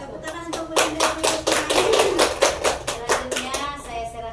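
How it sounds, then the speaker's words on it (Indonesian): A group of teachers claps in a quick, patterned rhythm to honour a presenter at an Indonesian teachers' online session, the close, even beats carried along with voices chanting or calling. "Tepuk tangan untuk Bunda"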